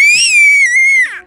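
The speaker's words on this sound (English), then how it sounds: "There is no need for you to be screaming." An 11-month-old baby girl lets out one loud, piercing, high-pitched scream that holds steady for about a second before breaking off, with no talking around it.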